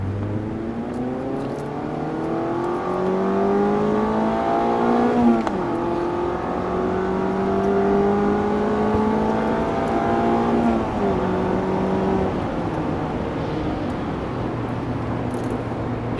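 A 2019 Mazda Miata Club engine revs up through the gears from inside the cabin, pitch climbing in three rising pulls with drops at each shift, loud and close.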